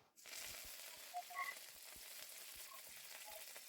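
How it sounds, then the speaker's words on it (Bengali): Dried chillies, curry leaves and mustard seeds tempering in hot oil give a soft, steady sizzle with faint pops and crackles, fairly quiet and without voices. "এবার একটু শুকনো লঙ্কা, কারি পাতা আর সর্ষে ফোড়ন দিয়ে নিচ্ছি।"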